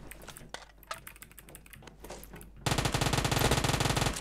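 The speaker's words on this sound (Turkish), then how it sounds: "Uzi." Uzi submachine gun firing in PUBG Mobile, a loud sustained burst of rapid automatic fire that bursts in partway through after scattered quieter game noises and clicks.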